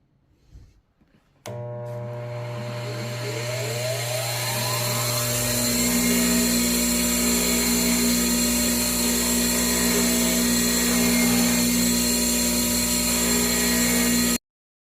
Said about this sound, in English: Now to hit the buffing wheel, or the wire wheel rather.